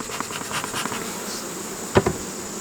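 Honey bees hum on a brood frame of uncapped larvae during a hive inspection, the nurse bees making a steady close buzz with a brief louder pass from one bee near the end.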